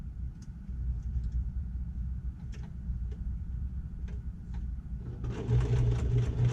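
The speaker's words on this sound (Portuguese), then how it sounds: "daqui até aqui eu vou costurar na margem da sapatilha" A sewing machine stitches the pocket lining of a handmade wallet at a 2.5 stitch length, running as a low, steady mechanical hum with faint ticks, then growing louder and busier near the end; no one speaks.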